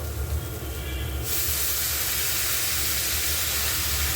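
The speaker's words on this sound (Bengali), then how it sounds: "জলের ছিটে দিয়ে দিলাম।" Water splashed into a hot frying pan of frying food, bursting into a loud, sustained sizzling hiss that swells abruptly partway through and carries on steadily to the end.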